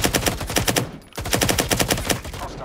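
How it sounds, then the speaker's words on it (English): Rapid automatic gunfire rattles in two long bursts with a brief pause between, loud and close, from the video game Firewall Zero Hour, with no talk over it. "Oh, he's taking pot shots"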